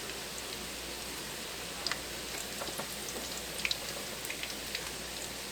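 Zucchini fritters fry in a pan, giving a steady, even sizzle like light rain, with a few faint pops and spatters and no talking.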